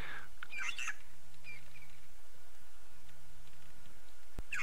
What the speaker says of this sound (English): There's a Burchell's starling.